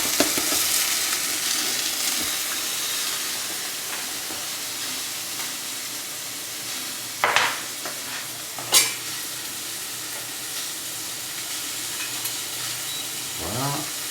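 Frying sizzle from a pan in a ramen burger kitchen, a steady hiss with a few sharp metallic knocks and scrapes as an egg is lifted out, no talking.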